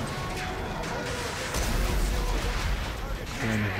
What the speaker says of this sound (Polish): wybuchy, my się temu przyglądamy.